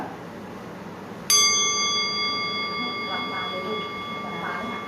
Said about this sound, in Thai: เมื่อได้ยินเสียงระฆังทุกคนต้องหลับตานะ